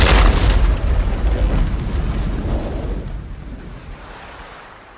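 A fire ship rams and explodes against another ship in Age of Empires III, a loud booming blast that rolls into a long rumbling decay with surf-like noise.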